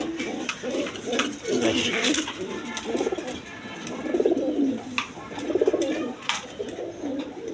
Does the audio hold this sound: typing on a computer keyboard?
no